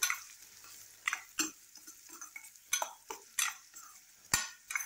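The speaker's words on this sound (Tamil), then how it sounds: "வெங்காயம் வந்து நல்லா வதங்கி வரணும்." Onions sautéing in a pan for a garlic gravy, stirred with a utensil that gives sharp, irregular scrapes and clinks against the pan over a faint sizzle, close and fairly quiet.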